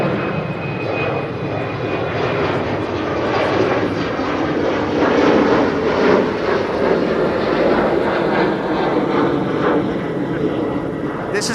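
A narrow-body jet climbs out steeply after takeoff from Amsterdam Schiphol, its loud engine roar swelling and rumbling overhead for over ten seconds, with faint talking underneath.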